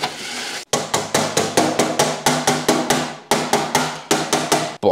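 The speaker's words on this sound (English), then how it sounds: "So I've just been hammering crap out of that and it's still straight as you like." Hammer blows ring out on a metal consumer unit board, about twenty loud, close, evenly spaced strikes in a steady rhythm with a brief pause partway through.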